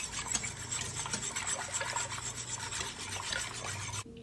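A close, steady rubbing and scraping of a utensil stirs ginger and garlic powder into huli huli sauce, continuous with no talking, ending in a brief knock.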